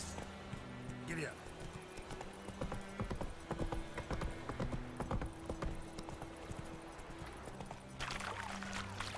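Horse hooves clip-clopping in The Witcher 3 video game, a steady galloping rhythm of thuds running under game sounds and occasional speech, with a brief whinny-like sweep near the start.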